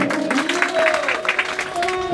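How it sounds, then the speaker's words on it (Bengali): A devotional gathering claps for the Lord during a spiritual class, quick, rhythmic handclaps over a sustained sung or droning tone, loud and close throughout. "প্রভুর জন্য হাততালি"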